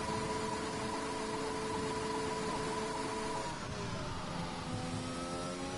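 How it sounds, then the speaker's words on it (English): An F1 car in a racing video game at Monza holds high revs, with a sustained, buzzing engine whine that shifts pitch partway through as the gearing changes; the sound is steady and continuous, with no voices. "who's looking to hold his position in P1, is currently ripping up the engine on those high revs"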